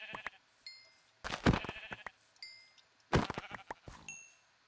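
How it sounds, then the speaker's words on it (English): Sheep bleating in the video game Minecraft, several short nasal bleats in two bursts with quiet gaps, fairly close and clear, with no talking. "I can see you in the tall grass, sheep."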